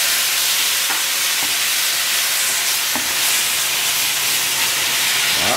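Beef sautés in a non-stick pan with soy sauce, a loud continuous hiss of steam and sizzle filling the whole stretch, with a few faint clicks; no voices.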